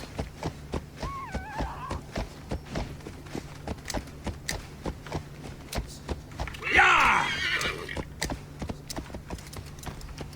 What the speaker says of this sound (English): This is a shitty place to be traveling on a horse.